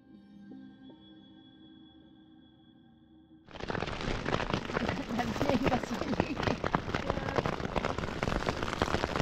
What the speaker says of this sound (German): Es ist derbe am Regen